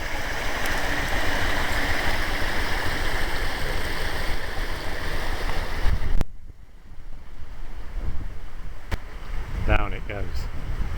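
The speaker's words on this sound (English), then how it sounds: "the water comes down with that watercress" Clear water runs down a watercress stream in the Piddle Valley, Dorset, a steady close rushing burble that cuts off abruptly partway, leaving quieter flowing water with a brief voice near the end.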